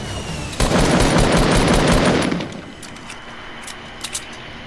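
Rapid automatic gunfire in the Fortnite Battle Royale video game, a dense loud burst of shots lasting about two seconds, then a few sparse distant pops.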